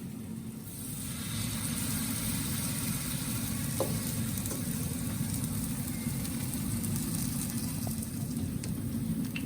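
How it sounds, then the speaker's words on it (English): Zucchini fritters frying in hot oil give a steady, dense sizzle that runs evenly throughout, close and fairly loud, with a few faint clicks over it and no talk. "Get that nice sizzle, that's when you know your oil's ready."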